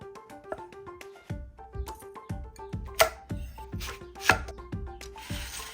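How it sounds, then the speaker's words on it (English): A knife chops beetroot into julienne cubes on a board, a steady series of crisp, evenly paced cuts that thud close by against a faint background tone. "what we do here now is we'll julienne them. We'll just cut them into the perfect little cubes"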